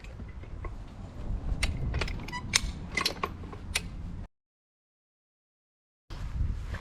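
A Harbor Freight farm jack is cranked while removing a post, giving a run of metallic clicks and ratcheting clanks over low rumble. The sound cuts out completely for about two seconds, then the mechanical noise resumes.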